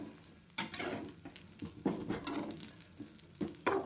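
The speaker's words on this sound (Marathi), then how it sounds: "आवळे भाजायला मला ते चार ते पाच मिनिट झालेले आहे" Whole amla (Indian gooseberries) roasting in salt in a pan, irregular rattling, rolling scrapes and clatter over a low sizzle, close and uneven with sharp bursts as they are stirred, no voices.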